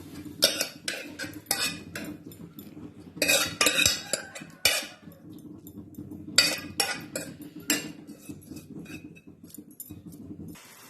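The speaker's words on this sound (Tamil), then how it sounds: "இப்ப வேற பாத்திரத்துல மாத்தி எடுத்துக்கிறோம்" A metal spoon scrapes and clinks against a pan while moving fried broad beans into another vessel. Bursts of scraping and clattering come close up between quieter pauses, with no talk.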